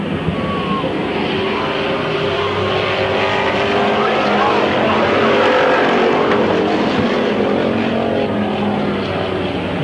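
Race cars circle the track at Midvale Speedway in 1995, their engines a loud, continuous roar that swells and blends as the pack passes, with no break in the noise.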